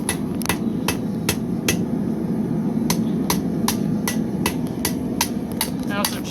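Rapid, evenly spaced ringing strikes of a hammer on hot metal at a blacksmith's anvil, about a dozen sharp loud blows over a steady rumbling forge and shop background, with no one speaking.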